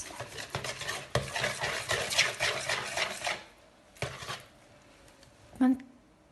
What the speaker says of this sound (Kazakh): Араластырамыз.